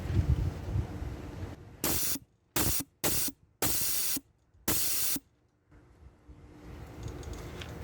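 Five sharp bursts of air hiss from the down valve of a rear air suspension on a 1998 Dodge Dakota, each lasting under a second, separated by short gaps, loud and close against quiet background rumble.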